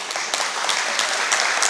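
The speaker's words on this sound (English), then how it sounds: "Don't applaud me" A church congregation bursts into steady, close applause for the preacher during a sermon on family and marriage, with a dense wash of many hands clapping.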